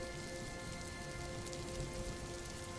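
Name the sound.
rain falling, sound effect in a horror story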